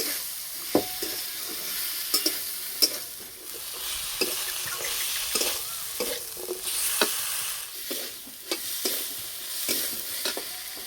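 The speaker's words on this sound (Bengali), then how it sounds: "মশলার সঙ্গে সজনে ডাঁটাটা ভালো করে কষিয়ে নেব।" Drumstick pieces stir-fry in spiced oil in a pan, with a soft continuous sizzle broken by frequent scraping knocks of a spatula at an irregular rhythm; no voices.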